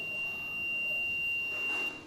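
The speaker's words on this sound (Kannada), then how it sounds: "ಕನೆಕ್ಟಿವಿಟಿ ಇಟ್ಟಾದ್ಮೇಲೆ ಸೊ ಇದರ ಚೆಕ್ ಮಾಡಿದ್ರೆ ಬೀಪ್ ಸೌಂಡ್ ಬರುತ್ತೆ" A multimeter set to continuity gives one steady, high-pitched beep while testing a switch board. The tone holds for nearly two seconds and then stops, against a faint background hiss.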